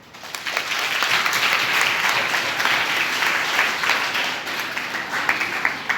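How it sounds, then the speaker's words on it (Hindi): Students at a meditation centre event clap together, a sustained, dense round of applause that builds quickly and holds steady for several seconds before tapering. "ताली बजाओ।"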